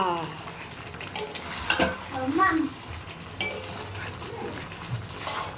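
Mutton kosha fries and gets stirred in a pan, with soft sizzling, scraping and occasional clinks of a utensil against the pot, fairly quiet, with voices nearby.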